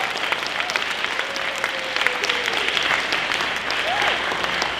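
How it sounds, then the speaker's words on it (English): A gym audience gives a steady round of applause for guest speakers, a dense, even patter of many clapping hands that holds at a constant level throughout. "I would ask that we give a huge round of applause to our three amazing guest speakers"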